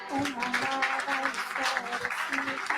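Church congregation clapping at a charismatic service, steady mid-level applause running throughout, with voices talking over it.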